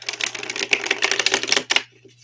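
A deck of cards being shuffled at a table, a dense rapid riffle of crisp flutter lasting under two seconds before stopping abruptly, close and moderately loud.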